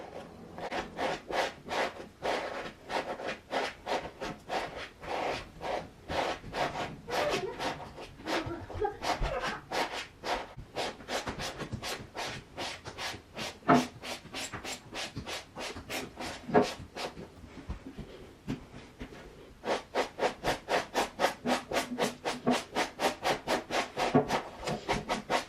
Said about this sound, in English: I'm going to go ahead and start combing now.